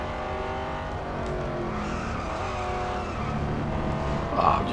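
A Jaguar F-Type SVR races in the Real Racing 3 mobile game, its engine droning steadily as the tyres skid and squeal faintly, building to a brief louder burst near the end, with a voice talking softly underneath.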